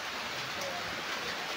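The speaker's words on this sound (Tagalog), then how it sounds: "nakakatamad talaga pag ulan" Steady rain falls in an even, hissing wash with no breaks, close and continuous with no other distinct sounds.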